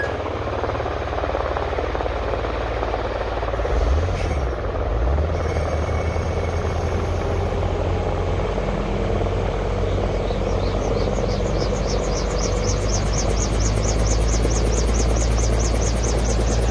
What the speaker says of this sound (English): we can start seeing all 5 of the wind machines here at CrossKeys